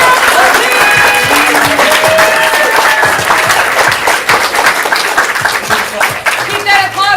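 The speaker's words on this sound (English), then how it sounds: "Keep that applause going for our red team captain!" Sustained applause from a large audience at an improv comedy show, steady and loud throughout, with scattered cheers and whistles rising over the clapping.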